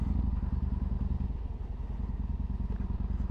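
Motorcycle engine idling with its exhaust baffles removed, a steady low rumble with rapid even pulses, close and continuous throughout.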